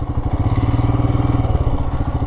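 A Ducati motorcycle engine rumbles loud and close with a steady pulsing beat, its tone shifting as the bike goes by, with no talk over it.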